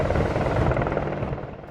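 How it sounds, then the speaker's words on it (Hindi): An Apache attack helicopter armed with missile pods, readied for an operation, produces a loud, steady, close rotor and turbine roar with a dense rhythmic thumping that continues without a break. "अपाचे हेलीकॉप्टर दिखा रहे हैं जो कि एक ऑपरेशन के लिए तैयार है।"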